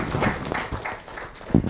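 Audience applause for a visiting professor after a chemistry lecture, a short burst of many hands clapping in an even, moderately loud patter, with a brief thump near the end.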